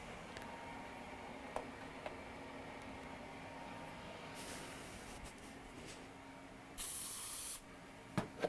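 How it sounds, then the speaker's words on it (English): Flux cleaner from an aerosol can hisses in two short bursts onto a cotton swab and plastic parts of a GE Signa 1.5T MRI shoulder receive coil. A steady low background hum runs underneath, and faint clicks follow. "I'm gonna spray a little on a Q-tip and on the plastic"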